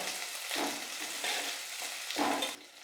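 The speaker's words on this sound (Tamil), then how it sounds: "இப்போ வெங்காயமும் கருவேப்பிலை வந்து நல்லா வதங்கட்டும்" Onions and curry leaves sauté in a pan, a continuous close sizzle with periodic bursts as they are stirred, cutting off abruptly at the end.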